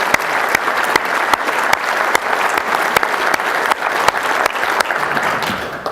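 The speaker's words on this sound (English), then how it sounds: "please join me in applauding their service to our community" Audience applause at a city's State of the City address, honoring community service: steady, dense clapping from a sizable crowd, loud and sustained for the full stretch with sharp individual claps standing out.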